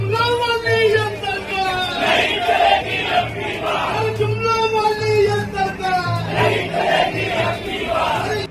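A large crowd at a political rally ahead of state elections chants a slogan together in loud, sustained unison, the massed voices rising and falling rhythmically throughout with steady crowd noise underneath.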